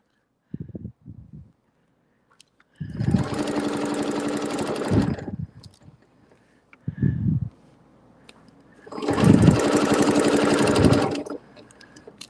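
Sewing machine stitching fabric while quilting feather and circle designs, running in two sustained bursts of rapid mechanical whirring with short pauses and brief handling knocks between them.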